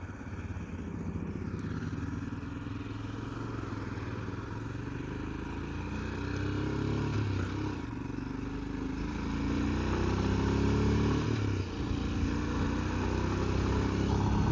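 A Royal Enfield Himalayan motorcycle being ridden, with a steady engine drone mixed with wind rush throughout, rising slightly in loudness toward the end.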